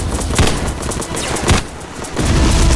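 Grenade blasts in the Roblox shooter Darkdivers: loud booming thumps land around the start and middle, with a dense roar of battle noise between and after them.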